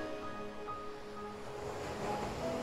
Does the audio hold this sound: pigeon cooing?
no